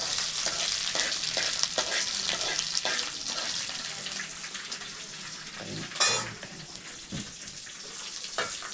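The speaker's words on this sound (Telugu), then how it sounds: "కరివేపాకులు వేసి వేపుతున్నాం" Curry leaves fry in a pan in a home kitchen, giving a continuous close sizzle with crackles, stirring scrapes and a louder clatter partway through.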